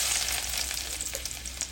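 Chopped garlic added to hot oil with panch phoron, a bright, steady close sizzle with light crackling, continuous throughout.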